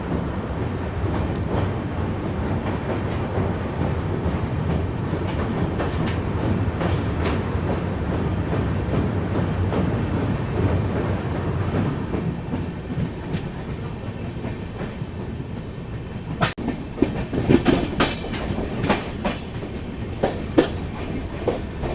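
A train rolling slowly across a river bridge, with a steady rumble for most of the stretch and then louder, irregular clanks and clicks of the wheels near the end.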